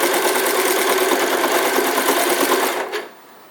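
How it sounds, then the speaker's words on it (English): A sewing machine runs fast and steady up close, sewing a decorative stitch around an elf hat as a dense, even whir of needle strokes, then stops near the end, leaving faint room tone. "Just let the machine do the work. Don't push, don't pull. Just let the decorative stitch work."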